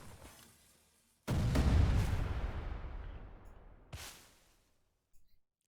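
A grenade thrown by a Grenadier explodes in Age of Empires III: a sudden loud boom with a long rumbling decay, followed by a second sharper blast and a brief faint pop at the end.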